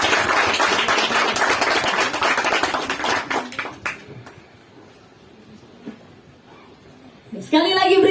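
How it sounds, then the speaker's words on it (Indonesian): Brisk clapping from a crowd at a campus orientation closing ceremony in North Maluku, Indonesia, loud for about four seconds and then fading, with a voice speaking over the room and a brief louder burst near the end. "Ya, mari kita iringi dengan tepuk tangan yang meriah."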